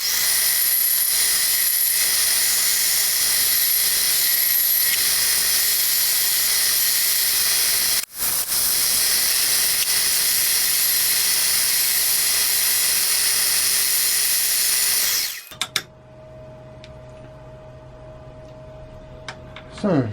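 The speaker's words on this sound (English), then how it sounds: "So a bit of milling." A milling machine cuts cast iron V blocks, a loud continuous whining, grinding drone with a brief break near the middle, then stops to leave a lower idle hum.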